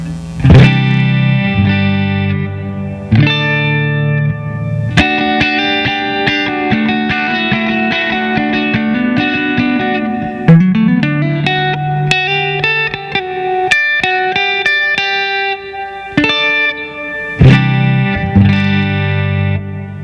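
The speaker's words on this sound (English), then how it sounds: "the Flint's a little bit darker of a reverb with all knobs at noon" Guitar played through a Strymon Flint reverb pedal set to 80s mode with every knob at noon, giving a darker wash behind sustained chords and picked notes that ring steadily for the whole stretch.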